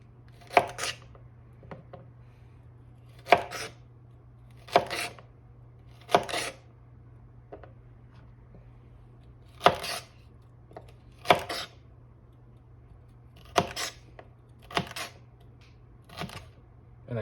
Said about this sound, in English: And that way, you get some nice, even cuts of celery.